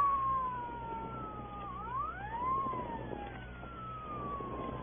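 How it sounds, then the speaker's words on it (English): A police car siren wails in a city street in an old film, its rising and falling tone sweeping continuously at moderate distance with a slight muffled, band-limited quality. "What chowderhead was stupid enough to use his siren?"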